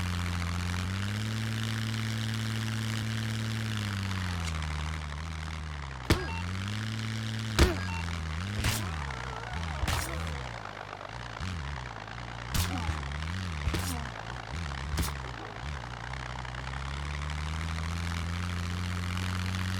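Propeller airplane engine in the survival game Scum, a steady droning hum that dips and rises in pitch several times, with a few sharp clicks and knocks over the top and no talking.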